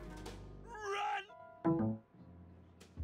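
A cat meows in the video game Grim Fandango, a couple of drawn-out, wavering cries over low background music, moderately loud and close.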